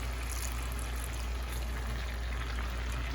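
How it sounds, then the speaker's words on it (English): Broth pours into a pot of water on the stove for a seafood Alfredo, a soft steady liquid stream with a trickling, faintly bubbling texture, quiet and unbroken. "let's add some of that broth."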